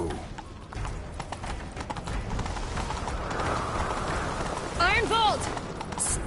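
Rapid hoofbeats of a galloping horse in Witcher 3 thud steadily beneath a busy game soundscape, with a brief whistling call near the end.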